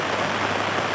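Steady rain falls on an outdoor farm yard, a dense, even hiss of drops on the ground and surfaces, continuous and fairly loud with no talking.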